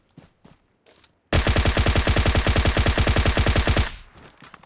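A weapon in PUBG Mobile fires a rapid, evenly spaced automatic burst of about two and a half seconds, loud and close, preceded by a few soft handling clicks and followed by a brief fading tail.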